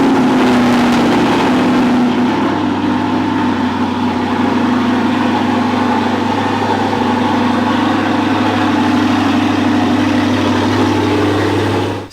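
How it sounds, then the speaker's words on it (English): An Audi R8 engine cold-starts after sitting three days in a garage, settling into a loud, steady, continuous idle with a deep drone, close and unbroken throughout. "here's a 3-day cold start up in the garage"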